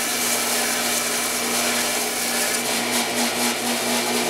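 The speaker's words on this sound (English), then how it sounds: "the idea is to grind every surface that you're going to see" Power grinding on a metal motorcycle bracket, smoothing away scarring marks across every visible surface; a steady, dense, close abrasive whine runs unbroken throughout with no pauses.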